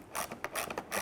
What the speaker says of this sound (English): you're going to use a 7mm socket and ratchet, loosen and remove